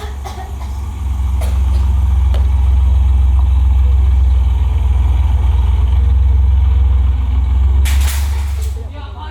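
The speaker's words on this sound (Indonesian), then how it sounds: "Tiap hari di rumah mesin ini membuat telinga semakin pengah saja." A machine engine drones steadily throughout as a stage sound effect in a theatre play, loud and constant with a low rumble, with a brief hissing burst near the end before it fades.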